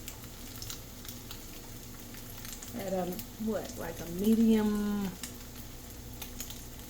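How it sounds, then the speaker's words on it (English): Tofu frying in hot oil in a pan over fairly high heat, a soft steady sizzle running underneath a person talking close by. "You want it to be frying"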